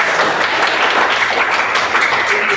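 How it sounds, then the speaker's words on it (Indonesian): Classroom clapping for a student, a short burst of many hands applauding together, steady and fairly close for a couple of seconds. "Tepuk tangan buat dia."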